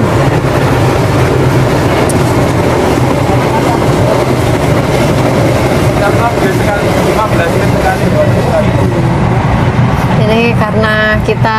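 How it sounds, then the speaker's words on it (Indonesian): A train rolls past on a railway line close by, a loud steady rumble and clatter of wagons filling the whole stretch, with a horn-like tonal call rising near the end. "Ini karena kita lokasi dekat dengan rel kereta api, jadi dari tadi lalu lalang rel kereta ya"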